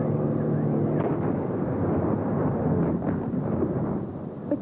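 Distant gunfire rumbles through a building during the October 1993 Moscow unrest, heavy dull thuds and rolling booms standing out from a constant low background roar.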